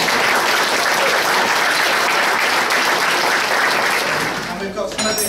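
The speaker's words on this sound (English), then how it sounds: "Can we give them all a round of applause?" Wedding guests break into loud, sustained applause during the speeches, a thick wall of clapping that fills several seconds before tapering off, with a voice and some clinking emerging at the close.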